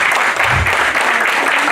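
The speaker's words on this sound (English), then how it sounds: "Please give a big round of applause." Round of applause from the audience at a national conference on herbal medicine regulation, a thick, continuous wash of clapping that holds steady and loud for the whole moment.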